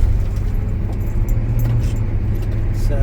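A car on a test drive rumbles steadily with a continuous low engine drone and road noise, loud and close, the engine note holding through a gear change.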